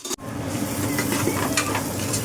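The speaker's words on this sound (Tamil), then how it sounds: "கொஞ்சம் வெங்காயம் வதங்கட்டும்." Steady sizzling of onions sautéing in a hot pan, a soft crackling hiss with a brief scrape of stirring near the start.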